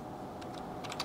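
Keys tapped on a Logitech K480 Bluetooth multi-device keyboard, heard as soft, quiet clusters of keystrokes over a steady background hiss with no talking.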